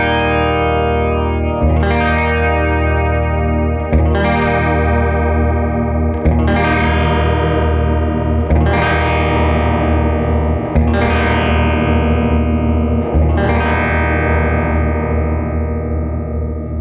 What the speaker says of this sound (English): what I'm going to do is slowly turn up the amount control, which is the static pitch shift